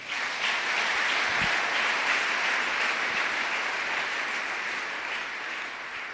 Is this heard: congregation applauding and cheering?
yes